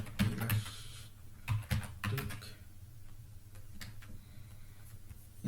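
Computer keyboard typing comes in quick bursts of close, crisp key clicks, with a cluster near the start and scattered single taps after it, over a faint steady background hum.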